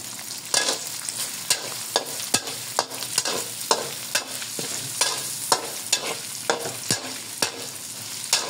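Garlic hits a hot pan for callos, a Filipino beef tripe stew, and is sautéed with brisk stirring: a loud continuous sizzle broken by a regular run of sharp spoon scrapes, roughly one per second.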